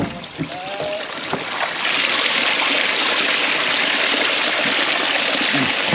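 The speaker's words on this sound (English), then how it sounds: "Let the water out." Water draining out of a small boat's hull, a steady rushing gush like a stream that swells after a couple of seconds and keeps pouring evenly, close by, with a few faint knocks at the start.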